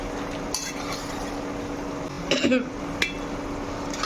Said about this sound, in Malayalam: നമുക്കിത് ഇടയ്ക്കിടയ്ക്ക് ഇളക്കി കൊടുക്കാം.